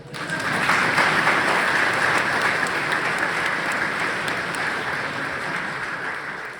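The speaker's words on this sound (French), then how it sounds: "On applaudit encore." Sustained applause from a church congregation at a Christmas mass in the Sainte-Madeleine parish of Havre-aux-Maisons, a dense even wash of clapping that swells quickly and holds steady for several seconds.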